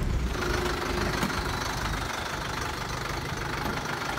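A Tata Ecomet 1212 L truck engine idles close by with a steady low diesel rumble and a faint knocking rhythm, running alone without any voices.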